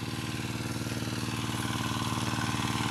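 A diesel engine on a machine sold as economical and quiet runs at a steady pace, giving a continuous, even chugging drone with a rapid regular pulse throughout and no voices.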